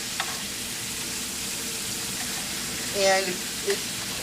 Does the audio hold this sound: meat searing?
yes